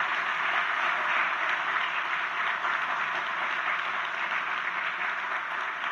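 Sustained audience applause for government ministers at a political event with the Chilean president, a steady dense wash of clapping that holds at an even level throughout.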